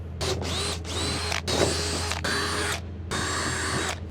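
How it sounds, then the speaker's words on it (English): Power drill boring holes into a wooden sub-floor system, loud whirring bursts of drilling separated by brief pauses, four or five runs in a row at close range. "With the holes drilled"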